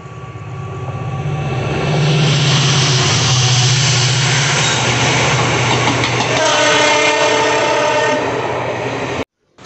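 A train on the Konkan railway route roars past close by at night, with a steady loud rumble and tonal horn-like blasts throughout, then cuts off abruptly at the end.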